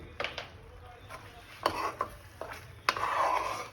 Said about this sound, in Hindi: इसे अच्छी तरह मिला लेना है और इसको तब तक पकाते रहना है जब तक ये अच्छे से गाढ़ा नहीं हो जाता